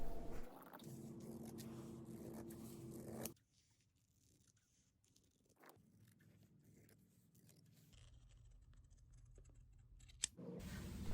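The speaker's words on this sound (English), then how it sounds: "I proceed to cut the skirt at an angle." Scissors cut fabric at an angle for a ball gown skirt, a run of close snipping and scraping followed by quieter intermittent cutting and rustling.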